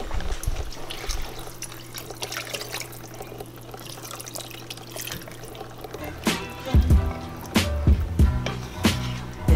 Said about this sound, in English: We're gonna add more water to it.